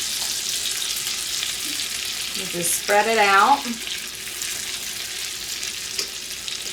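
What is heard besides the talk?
cornbread batter sizzling in a hot buttered skillet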